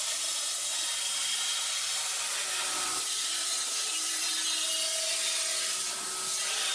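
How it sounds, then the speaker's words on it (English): Belt sander held upright, grinding a 45-degree bevel along the edge of a steel welding-cart part, giving a steady close abrasive hiss with a faint whine that holds evenly throughout and no speech. "I'll set the belt sander upright, and again, I'll sand the edge at 45 degrees, 22 degrees, and 68 degrees."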